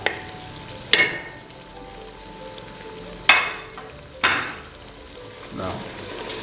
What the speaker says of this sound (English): Now cook well for some time.